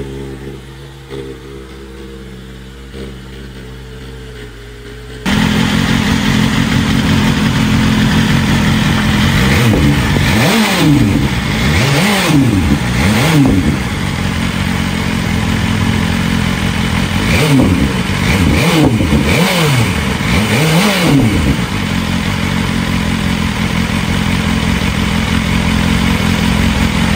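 A 2024 BMW S1000RR superbike idles and then blips its engine repeatedly, the revs climbing and dropping in sharp rising and falling sweeps that keep hitting the limiter, loud and close throughout.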